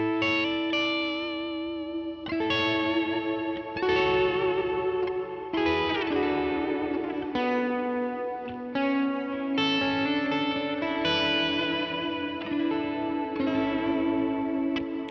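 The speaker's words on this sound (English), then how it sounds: "This is my clean tone." Clean electric guitar notes and chords ring out with light chorus and reverb, a bright, undistorted tone played in a relaxed melodic phrase.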